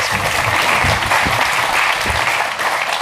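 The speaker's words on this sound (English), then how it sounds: "give Shireen a round of applause for doing that" Audience at a leadership talk giving a round of applause, loud sustained clapping from a room full of people, close and continuous for a few seconds.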